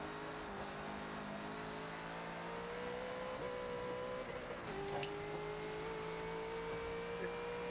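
A Bentley GT3 race car in Forza held in third gear, a steady droning engine note that climbs gradually in pitch with a brief shift-like dip midway, smooth and continuous.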